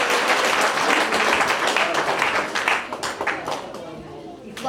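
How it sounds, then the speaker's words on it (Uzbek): An audience at an Uzbek family celebration claps enthusiastically, a loud dense burst of applause that gradually thins into scattered individual claps, with some voices mixed in. "Qarsak chalamiz."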